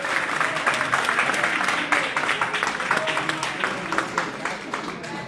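An audience at a business payout presentation claps continuously: dense, fairly loud applause with crisp individual claps throughout, and voices mixed in underneath.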